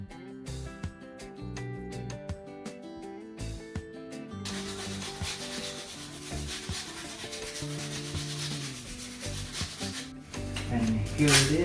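A steady scratchy rubbing of sanding on wood, close by, under a tuneful music track that plays alone at first.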